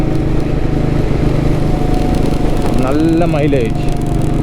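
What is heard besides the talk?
Royal Enfield Vintage Bullet motorcycle riding at 78 km/h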